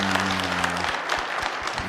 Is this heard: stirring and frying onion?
no